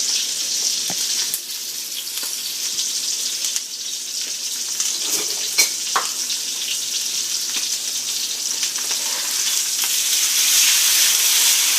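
Rib eye steak frying in a hot pan gives off a loud, steady sizzle with crackling pops, continuous and close for the whole stretch, with no talking over it.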